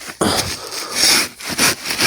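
A shovel scrapes and scoops construction sand, with several loud, close, gritty rasping strokes and no talk.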